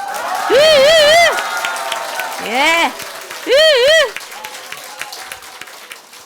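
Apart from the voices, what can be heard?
audience applause at a church event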